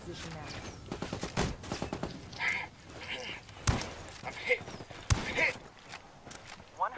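Sharp bursts of shooter video game gunfire crack out in scattered volleys, with close muffled impacts and footsteps, while people talk over the action.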